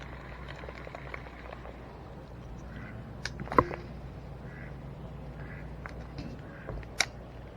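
A duck quacks from inside a bass fishing boat, a few brief, faint calls scattered over a steady low outdoor rumble, with one sharper quack partway through.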